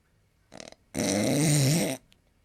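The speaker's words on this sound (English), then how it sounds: "Is that supposed to be snoring?" A single loud, raspy snore, preceded by a short snort and followed by a brief faint sniff, heard close and alone without talk.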